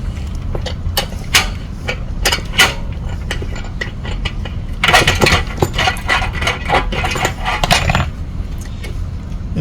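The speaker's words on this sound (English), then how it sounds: "that is how you get a 1 3/8 inch hole with a chassis punch" A chassis punch is cranked to cut a 1 3/8 inch hole in metal, producing irregular metallic clicks, creaks and taps, with a denser grinding stretch near the end.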